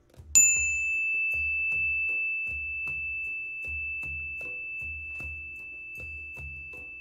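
A single bell is struck once during a prayer bead practice and rings out with a long, pure sustained tone that slowly fades, over a soft rhythmic low thumping.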